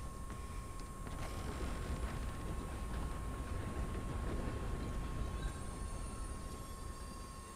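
A train rolling along in the video game Red Dead Redemption 2, a steady dense rumble and rattle of rail wagons with a faint continuous tone, no voices.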